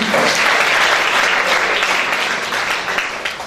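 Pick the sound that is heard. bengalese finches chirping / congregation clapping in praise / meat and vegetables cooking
congregation clapping in praise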